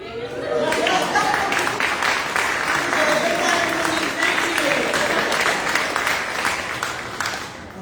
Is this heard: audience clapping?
yes